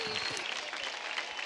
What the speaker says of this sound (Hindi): ताली हो जाए अफशा और अमृता के लिए।